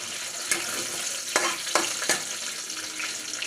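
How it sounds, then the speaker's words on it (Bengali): Dried red chillies and a bay leaf temper in hot oil after chicken has been fried, giving a continuous close sizzle punctuated by a few sharp crackles and stirring scrapes. "এবার তেলের মধ্যে দুটো শুকনো লঙ্কা আর একটা তেজপাতা ফোড়ন দিলাম।"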